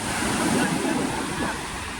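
A steady rush of river water fills the short moment, close and continuous with no other clear sounds.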